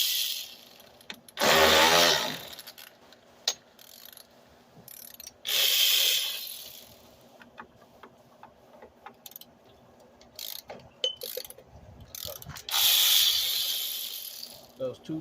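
A ratchet wrench loosens 10 mm fan shroud bolts on a 2003-2005 Lincoln Aviator with a 4.6L V8, giving several loud bursts of rapid clicking separated by quieter handling noises and faint knocks.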